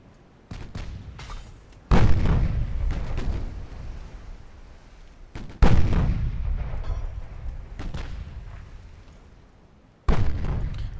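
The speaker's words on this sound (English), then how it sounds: "I want to see if I can actually do damage with my 8 and 6-inch guns against them." Naval 8- and 6-inch guns fire in the warship game Ultimate Admiral: Dreadnoughts, with three loud booming salvos spaced several seconds apart, each decaying into a long rumbling tail, plus fainter distant shots early on.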